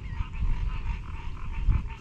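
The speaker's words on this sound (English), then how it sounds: "The frogs have started their bing bong bong bong music, their love song" Frogs croak at sunset beside water during spring, a low, pulsing chorus of overlapping calls in a steady rhythm at moderate distance, with no voices.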